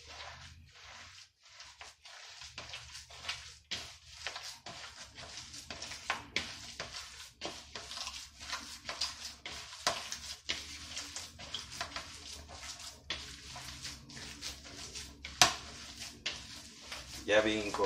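Wet, squelchy squishing and pressing as homemade burger meat mixture is kneaded by hand, a steady run of close, soft irregular squeezes and slaps.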